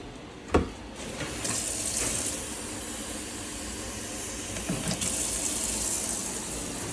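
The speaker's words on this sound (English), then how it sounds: "Now we're gonna do 4 cups of water." Water pours steadily from a tap into a pot of rice being cooked for Puerto Rican gandule rice with shrimp, a continuous close gushing hiss after a brief knock at the start.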